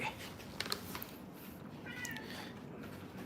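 One of four cats gives a faint meow in a quiet room, a short, thin cry rising out of low background hiss.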